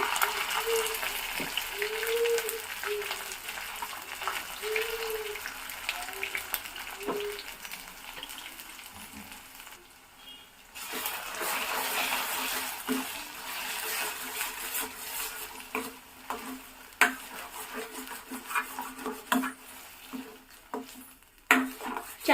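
Ground masala for egg curry fries and sizzles in a pan while a spoon stirs and scrapes it, with steady crackling, bursts of clatter against the metal, and a brief quieter pause midway.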